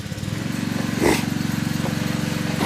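A Detroit 671 diesel power unit, rebuilt, runs at a sawmill with a steady rapid chugging pulse. It is loud and continuous, with one brief louder burst midway.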